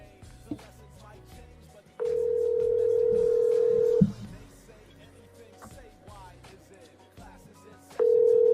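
A telephone dial tone on speakerphone, a steady tone that comes on for about two seconds, cuts off, then returns near the end, with background chatter and clatter between the tones.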